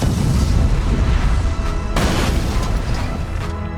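A loud, continuous car explosion roar fills a Burnout Revenge game scene, with a sharp burst near the middle and heavy rumbling throughout, no talking.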